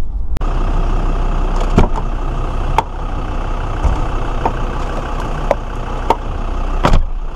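Land Rover Discovery 2 engine labouring up a straight hill climb on an unclassified green lane in the North Yorkshire Moors, a loud continuous drone with occasional sharp knocks and rattles from the rough track.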